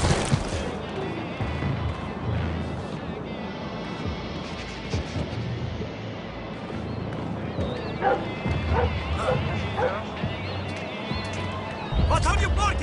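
A dog barks and yips in the video game Tom Clancy's The Division, in a run of sharp barks and whimpers with game ambience and talking over it.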